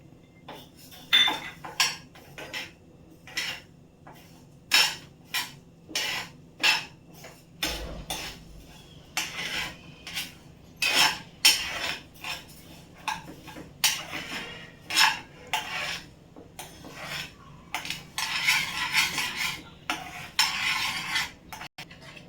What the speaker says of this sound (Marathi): आता मी हे सर्व साहित्य एक एक करून मंद आचेवर भाजून घेत आहे.